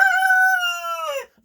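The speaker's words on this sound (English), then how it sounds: "These are Buff Orpington roosters" A Buff Orpington rooster gives a single loud, close crow, a sustained harmonic call that holds steady and then drops and cuts off sharply after about a second.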